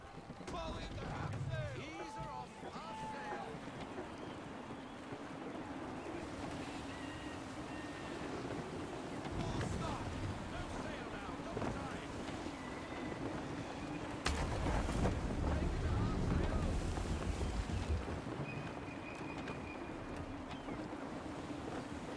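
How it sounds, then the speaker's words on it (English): Gusty wind rushes over a sailing ship at sea in Assassin's Creed 3, a steady roar of wind and water with swelling gusts and a heavier surge midway, while faint voices and a soft musical tone drift beneath. "Gusty winds can be difficult to manage"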